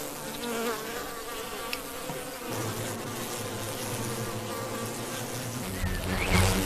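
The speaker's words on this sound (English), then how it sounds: "Hives are complex societies with each bee assigned a role." Dense, continuous buzzing of many bees swarming around a hive, loud and close, with a steady drone that swells slightly near the end.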